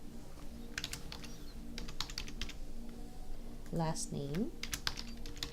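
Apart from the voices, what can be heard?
typing on a computer keyboard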